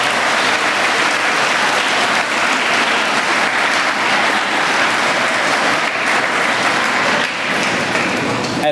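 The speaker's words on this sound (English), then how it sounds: "Let's give these veterans a round of applause" Steady, loud applause from an audience at a middle school Veterans Day ceremony honoring veterans, a dense wash of clapping that holds throughout without a break.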